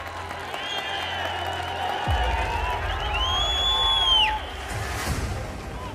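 Audience applause and cheering at a Hindi public speech event, a broad sustained clatter of clapping with scattered whoops filling the whole stretch, loud and close.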